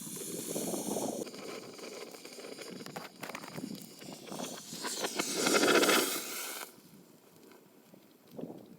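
Smoke bomb hissing inside a tractor bucket during a smoke test for pest control, a rough, sputtering hiss that rises and swells near the middle before fading, with scattered knocks and rustles around it.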